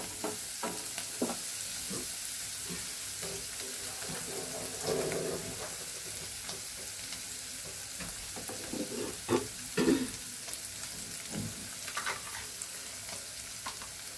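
Food fries in a pan while being stirred, a soft continuous sizzle with intermittent scraping and clinking of the spatula against the pan, close and moderately quiet, with no talking.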